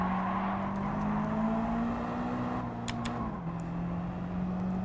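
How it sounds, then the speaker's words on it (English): A car engine in Gran Turismo 7, played in VR, held at high revs against the rev limiter: a loud, steady buzzing drone that dips slightly in pitch near the end, with no talking. "Keep hitting the rev limiter."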